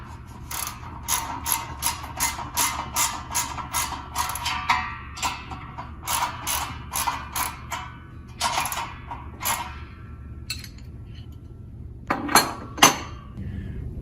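Repeated ratchet clicking while bolts are tightened around the base of a commercial air circulator fan pedestal, in quick bursts of close, crisp pawl clicks with brief pauses and a metallic clink near the end.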